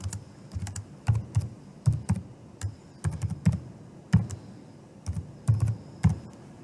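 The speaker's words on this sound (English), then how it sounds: "you have to type in your credentials in order for you to be able to access" Login credentials typed on a computer keyboard, with bursts of close, crisp key taps in short irregular groups and brief pauses between them, no voices.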